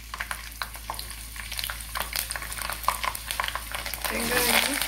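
Garlic and fenugreek stir-fry in hot oil for a Chettinad-style tempering, with soft sizzling, a spoon scraping and tapping the pan in irregular bursts, and the frying swelling louder near the end.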